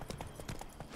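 In The Witcher 3 video game, a horse gallops with a quick, even clip-clop of hooves, close and moderately loud, for about a second.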